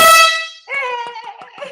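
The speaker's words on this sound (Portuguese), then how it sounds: "Eu sempre sonhei com essa buzina." A loud, brassy air horn blast, followed by a shorter, wavering horn sound with a few clicks.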